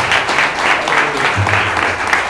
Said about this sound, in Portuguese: Quem pode dar uma salva de palmas para Jesus